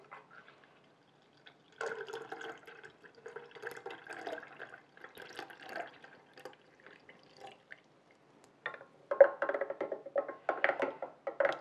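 Milk poured into a mango popsicle mixture, soft trickling and dripping liquid sounds, close and quiet, coming in intermittent bursts with short gaps and a slightly stronger pour toward the end.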